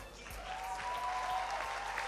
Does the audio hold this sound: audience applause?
yes